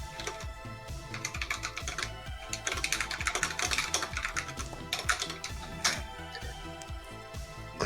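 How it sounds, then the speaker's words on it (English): Rapid, continuous clacking of a budget mechanical computer keyboard, roughly thirty dollars, typed on steadily and close to the microphone, with no voices over it. "Clackety. Clacky keyboard."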